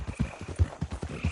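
Horse hooves clip-clop in the Red Dead Redemption 2 video game world, a steady rhythm of about eight close, distinct thuds over a little more than a second, with no talking.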